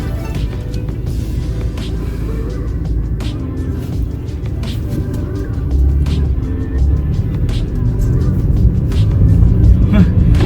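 A BMW F30 320i tuned to 350 hp on D2 coilovers accelerates on the road, a steady low engine drone that builds and grows louder toward the end, with faint background noise.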